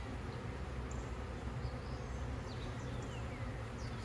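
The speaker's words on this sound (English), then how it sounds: "Look out, bees." Honeybees buzzing around an open hive during a mid-May spring inspection, a steady dense hum with a few brief higher passes of individual bees close by, no talk.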